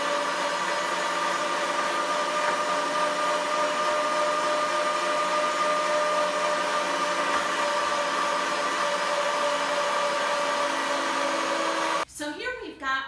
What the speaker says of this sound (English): We're going to put it through the grinder one more time using a much finer blade.